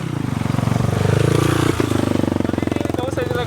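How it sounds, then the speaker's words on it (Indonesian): A motocross motorcycle climbs uphill on an outdoor trail, its engine pulsing loud and close in a steady rhythm with a brief rev, while someone talks over it. "Jadi inilah dibilang motornya naik, orangnya ada di bawah."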